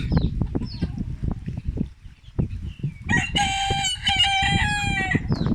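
An old flock of chickens clucks in scattered bursts, then a rooster lets out a loud, drawn-out crow near the end.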